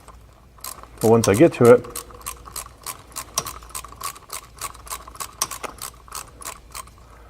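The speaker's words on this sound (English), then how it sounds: "now I just back that bolt out" Ratchet wrench backing out the bolt in the middle of the valve body on a Dodge Charger's ZF transmission, a steady run of close, sharp clicks following a short spoken phrase.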